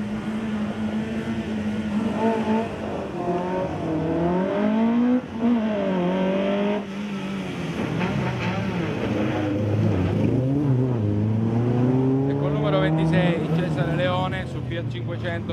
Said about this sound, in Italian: Bellissimo il rombo della vettura.